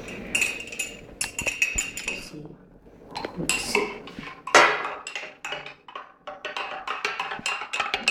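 A metal spoon stirs a soapy solution of dish soap inside a glass, with repeated bright clinks and rattles against the glass in uneven bursts, close by.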